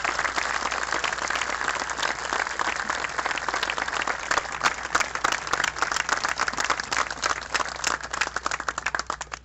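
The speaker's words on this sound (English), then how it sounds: "one big round of applause" Sustained applause from a memorial gathering for a fallen soldier, a dense crowd clapping steadily for several seconds. The clapping turns more scattered and sparse toward the end as it fades out.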